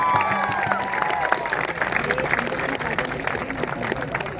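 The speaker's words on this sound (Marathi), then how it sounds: "एकदा त्यांच्यासाठी जोरदार टाळ्या वाजवा" An audience at a Marathi public gathering applauds, giving a continuous, moderately loud wash of clapping from a crowd with some voices mixed in.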